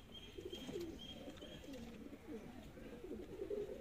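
Dab wala pigeons coo close by in soft, throaty, repeated rolling calls that overlap over a quiet background.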